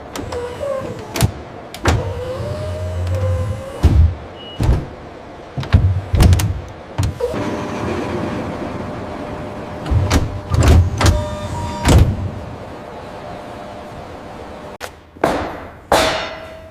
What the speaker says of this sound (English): Door system integration installs plug-type sliding doors at each vehicle section.